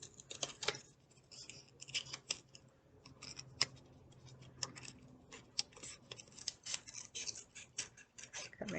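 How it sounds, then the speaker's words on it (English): Scissors snip through paper in quick, irregular cuts, each crisp and close. The snips repeat throughout in a quiet room. "I need to cut."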